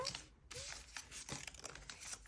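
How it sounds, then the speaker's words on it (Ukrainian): A plastic packet from a Squishmallow collectible set is torn open close up, giving a short burst of crinkling and ripping plastic with several sharp tears. "Відкриваємо пакетик."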